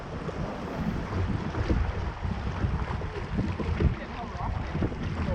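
Steady wind roars across the microphone during a river canoe trip on the Steel River, a constant rough rush with faint water sounds beneath and no speech.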